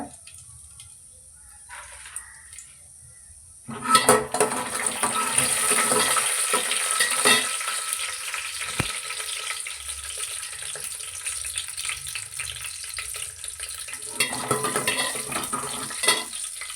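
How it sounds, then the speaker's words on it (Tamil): Dried red chilies fry in oil in a pan for sambar, a faint quiet start giving way to a sudden loud sizzle with stirring and scraping that continues steadily, with a few clinks of the utensil. "2 காஞ்ச மிளகாய் போட்டு நல்லா வதக்கிக்கோங்க"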